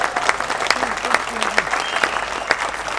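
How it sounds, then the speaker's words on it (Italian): An audience at a CD launch for a folk music album breaks into lively, continuous applause, with sharp individual claps standing out and a voice talking over the clapping. "Forte l'applauso!"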